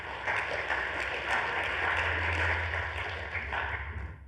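Conference session audience applauding, a continuous, fairly distant wash of many hands clapping in a large room with a steady background hum.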